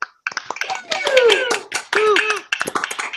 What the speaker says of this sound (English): join me in a round of applause to all of our contestants